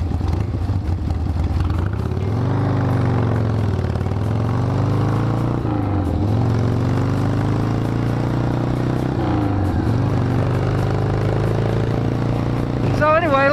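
A 1976 Harley-Davidson Ironhead Sportster 1000 chopper idling loudly close by, then its engine note rising and falling as it pulls away through the gears, with a voice speaking over it.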